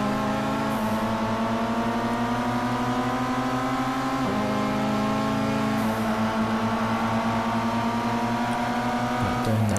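A race car drifting in a racing video game, its engine drone holding steady, then dipping and shifting pitch through the slide, loud and close, with no talk.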